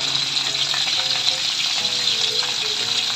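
Marinated beef tapa fries in very hot oil with a loud, continuous sizzle and crackle, close up and steady throughout.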